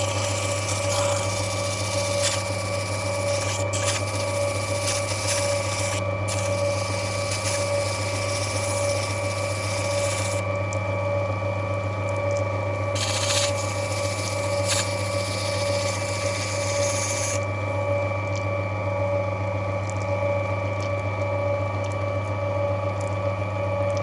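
An opal cutting machine tidies the face of Andamooka matrix, a continuous steady whirring motor hum with faint grinding, no talk.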